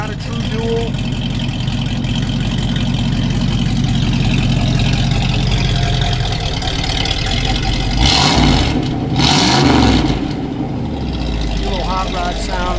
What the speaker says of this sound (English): So you got a little chambered exhaust sound is what you got out of the back now